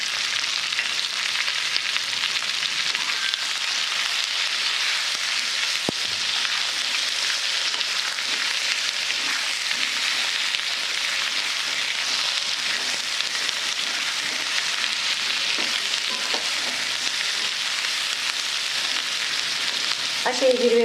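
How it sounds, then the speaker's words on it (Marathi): Eggplant sizzling steadily in hot oil with turmeric added, a continuous close frying hiss with occasional stirring clicks and scrapes. "वांग परतताना हळद घालते। हळद तेलात नाही घालत, कारण हळद जळून जाते।"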